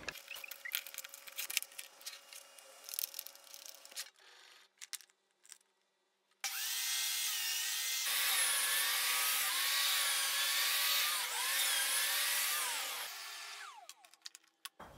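A saw cuts wood pieces on a small cross-cut sled with an adjustable fence: a few seconds of light tapping and handling give way to a loud, sustained cutting whine lasting about seven seconds, then it winds down.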